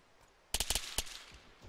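Incoming gunfire striking near a vehicle in a military video game, a quick cluster of four or five sharp cracks followed by a single shot, fairly close against a quiet engine hum.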